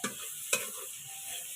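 Onion fries in a pan over a clay stove with a soft, steady sizzle and two quick scrapes of a spatula stirring; no one speaks.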